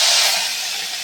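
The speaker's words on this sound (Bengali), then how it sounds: "কড়াইতে তেল দিয়ে দিয়েছি। এখন চিংড়ি মাছগুলো হালকা করে ফ্রাই করে নেব।" Boiled prawns fry in hot oil in a wok, giving a steady, loud, close sizzling hiss with no talk.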